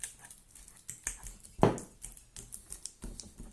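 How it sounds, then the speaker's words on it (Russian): Ripe banana being mashed with a fork in a bowl for sugar-free oat cookies: a run of soft, close tapping and squishing clicks, with one louder wet press in the middle. "И далее разминаю вилкой."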